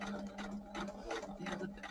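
A sewing machine stitches a cushion cover, running in short steady bursts with a brief back stitch at the end of the seam, close and moderately loud with no talking.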